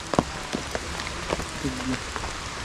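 Rain falls steadily outdoors on a slippery rural path near an Aeta community's sitio, a dense hiss with scattered close drops tapping, with a brief faint voice or tone partway through.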